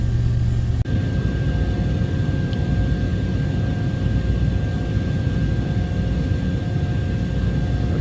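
A 2004 Toyota Tundra 4x4 idles steadily with a low, even engine drone and a faint constant whine, close and continuous, with a brief click near the start and no talking.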